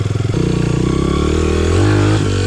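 A Honda CRF 100F dirt bike engine revs loudly and close by, first with a few choppy pulses and then a sustained, rising drone.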